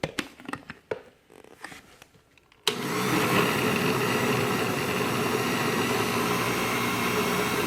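A kitchen blender mixes a smoothie, switching on abruptly into a loud, steady whirring roar after a few seconds of clicks and handling sounds.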